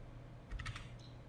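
Computer keyboard being typed on while entering a command, a short quick cluster of a few close, crisp key clicks in a quiet room.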